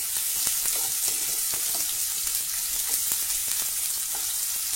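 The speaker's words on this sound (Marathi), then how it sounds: "आता हा कांदा मऊ होईपर्यंत आपल्याला हे व्यवस्थित परतवून घ्यायचं आहे" Chopped onion with crushed ginger and garlic sautéing in a pan, a loud continuous sizzle with frequent small crackles and occasional stirring scrapes throughout.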